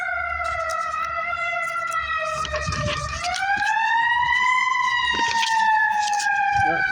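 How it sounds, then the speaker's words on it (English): A loud, wailing siren rises and falls steadily with rich harmonics, close by, with faint traffic rumble underneath. "Oh, it's a fire truck."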